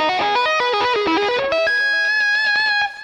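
An electric guitar with distortion plays a fast string-skipping tapping lick, with quick even runs of hammered notes moving up and down that settle into a long sustained note at the end, loud and close with no talking.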